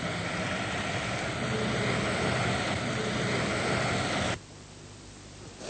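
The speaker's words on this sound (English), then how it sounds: "A foam extinguisher like this will produce a jet of about 6 metres." A foam fire extinguisher discharges a continuous hissing jet for about four seconds, loud and steady, then cuts off abruptly into quieter background.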